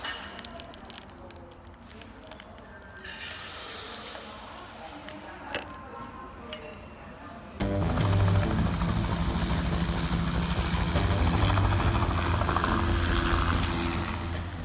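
A helicopter's engine and rotor roar steadily, growing louder and heavier midway through as it powers up close by.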